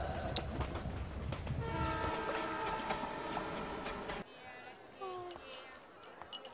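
A train passes with a long, loud horn blast over rattling rail noise, then the rumble drops away and a few shorter horn notes sound farther off; voices are heard alongside.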